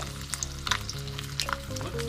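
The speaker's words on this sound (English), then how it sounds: "cooking over hot boiling oil" Homemade orange chicken pieces fry in hot, bubbling oil, a steady close sizzle with occasional crackles and pops, no talking.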